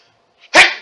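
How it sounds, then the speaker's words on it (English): A single sharp, loud human sneeze bursts out close up after a brief quiet intake of breath, alone with no talking. "Hold on, I gotta sneeze."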